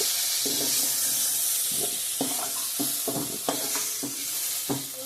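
Potato and pointed gourd fry together in a pan with a loud, steady sizzle, punctuated by repeated scraping stir strokes of a spatula at an irregular rhythm.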